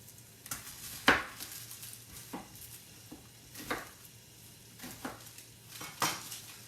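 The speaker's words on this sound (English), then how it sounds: "I'm going to take this onion, I'm going to quarter it." A knife quarters a whole onion, peel still on, on a kitchen board: scattered sharp knocks and taps, several distinct strikes spaced irregularly, close and fairly quiet with no talk.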